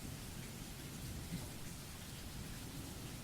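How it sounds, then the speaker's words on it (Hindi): Soft steady rainfall patters outside a roadside tea stall on a cold night, a faint continuous wash of drops with no voices. "बाहर बारिश की बूंदों की आवाज सुनाई दे रही थी"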